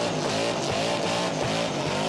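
A car doing a burnout at the Summernats Burnout Masters event in New South Wales, with a loud, continuous engine roar and squealing tires that keep rising and falling, dense and close with no voices.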